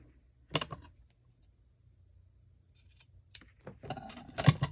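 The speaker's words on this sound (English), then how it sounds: "Now this one I'll cut a little bit shorter." Scissors snipping through craft material, a few sharp isolated cuts with pauses between them, then a quicker cluster of crisp snips close by, with no talking.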